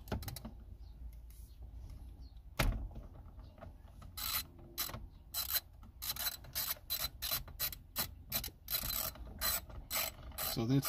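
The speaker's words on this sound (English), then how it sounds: "So that's definitely a T27. The T30 just didn't feel like it was sitting right. Try this side now. I'll loosen up this side." A ratchet loosens a Torx T27 screw on a 2005 Toyota Prius, giving a close, rapid run of rhythmic clicks after a quieter start with a single sharp knock.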